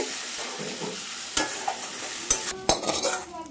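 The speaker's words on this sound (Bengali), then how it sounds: "এবার মা ধনেপাতা কুচি দিয়ে দেবে, দিয়ে নাড়াচাড়া করে" Lote fish frying with chopped coriander in a pan, a soft sizzle under a few sharp scraping stirs of a spatula toward the end, close and without talk.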